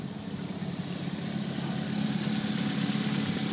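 A car engine idles steadily at close range, a low even rumble with slight vibration that grows a little louder partway through, with no talking.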